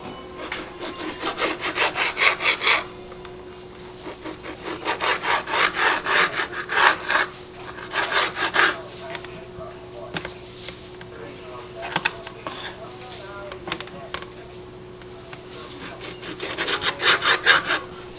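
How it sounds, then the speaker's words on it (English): A knife cuts strips of bacon at close range, making bursts of rhythmic sawing and rubbing strokes with pauses between them over a faint steady hum. "cut up some bacon."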